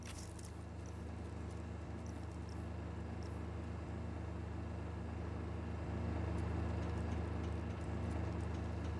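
A truck engine in the open-world action game Just Cause 4 hums in a steady, low, continuous drone, rising slightly in loudness partway through, with no talk over it.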